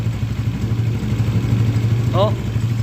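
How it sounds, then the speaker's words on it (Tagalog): A cold motorcycle engine idles and has not yet warmed up, giving a steady low rumble throughout with a brief voice sound near the end. "Hindi nag-iinit yung makina."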